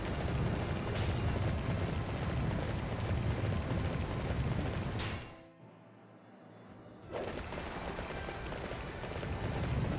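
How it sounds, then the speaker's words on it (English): Horse hooves pounding steadily as a mount is ridden across the land in Dynasty Warriors 9, a dense, continuous rumble that drops out briefly partway through and then resumes. "it's been a while since I've bothered riding my horse to different locations"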